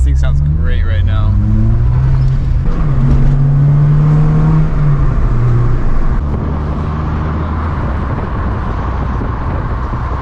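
A Nissan 240SX with an SR20 engine runs through an RSX Type S exhaust, giving a loud raspy engine note that rises and falls over a steady rumble. Voices talk over it early on.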